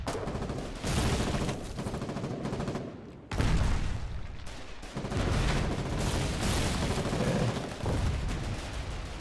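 Heavy battlefield gunfire in the war game Foxhole, with dense bursts of rifle and machine-gun shots and booming impacts, loud and continuous through the clip, with a brief lull near the middle before the firing resumes.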